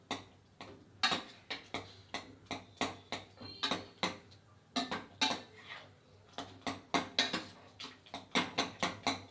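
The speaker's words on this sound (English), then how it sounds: "with a ladle, mash the pumpkin" Cooked pumpkin mashed with a ladle inside a pressure cooker, heard as a steady run of sharp metallic clacks and taps against the pot, repeating in quick irregular bursts close up, with no talking.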